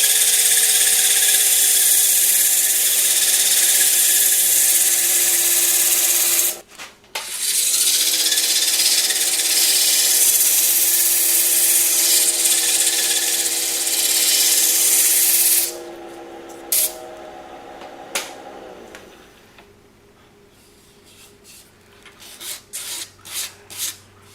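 Sandpaper rubs against a turned wooden salt cellar box spinning on a lathe, a loud continuous hissing rasp with a steady motor hum, briefly pausing, then stopping near the end with scattered handling knocks.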